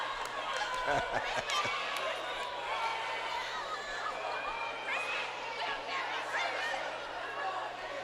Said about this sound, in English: You hear the Lawndale fans right now, and they got a lot to cheer about.